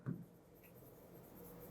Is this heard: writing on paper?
yes